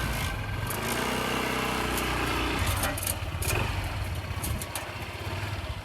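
A motorcycle engine putters at low revs as the bike creeps up a ramp onto a truck camper, a close steady rumble with some clatter and no talk.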